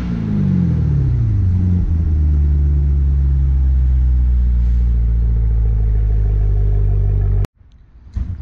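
Equus Throwback car engine idling with a deep, loud rumble, its pitch settling after an initial rev, then cut off abruptly near the end, leaving faint background sounds.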